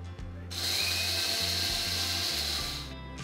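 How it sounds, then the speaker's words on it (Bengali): An electric grinder buzzes as coffee is ground into coarse granules, a loud whirring burst of about two and a half seconds with a short start before it and a rattle of beans under the motor hum. "এগুলোকে একটু গুঁড়ো করে নিতে হবে, একদম মিহি দানা নয়।"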